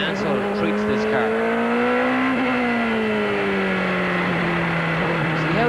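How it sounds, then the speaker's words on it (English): A 1993 CART IndyCar racing in the rain at Portland International, its engine holding a high steady drone that dips and rises gently with throttle changes, heard under continuous commentator talk. "Just listen to how easy Mansell treats this car."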